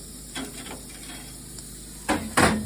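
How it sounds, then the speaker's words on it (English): Food searing on a Schwank infrared grill, a soft steady hiss with a few brief clatters of metal near the end. "It says put it all the way up to sear them for 60 seconds."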